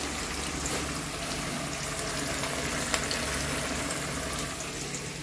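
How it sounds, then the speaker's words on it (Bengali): Onions and spices fry in a pan for a meat curry, making a constant, moderately loud sizzle with a faint watery hiss and one brief clink. "এবারে এই যে মাংসের জন্য মশলা, পেঁয়াজ ফেঁয়াজ ভাজা চলছে।"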